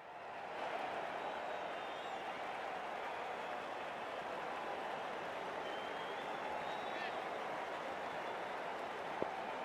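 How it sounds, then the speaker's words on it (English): Steady roar of a big stadium crowd in the cricket video game Cricket 2024, a continuous broad wash of cheering and clapping that holds loud throughout as players walk out. "Oh, it's a loud crowd as the players make their way out."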